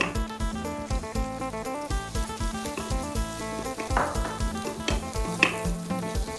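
Homemade pounded chili paste stir-fried in a hot pan of oil, a steady close sizzle under dense background music, with a few brief scraping stirs.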